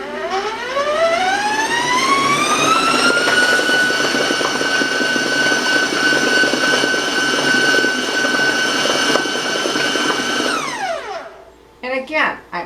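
A stand mixer whirs loudly and steadily at high speed while beating raisin oatmeal cake batter, its motor whine holding a sustained pitch before winding down, followed by a few short knocks.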